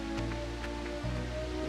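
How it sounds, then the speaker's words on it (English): Loud, steady rushing roar of a waterfall amid mist, a dense continuous wash of water noise with a low rumble underneath, constant throughout with no voices. "the waterfall's so loud I can't make out anything"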